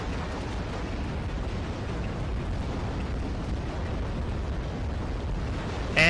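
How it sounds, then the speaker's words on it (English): Explosions and missile fire from the Act of Aggression strategy game form a dense, continuous rumbling roar of overlapping blasts, steady and heavy throughout with no speech. "with all those missiles flying overhead"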